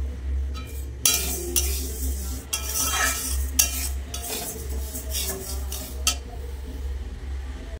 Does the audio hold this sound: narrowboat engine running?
no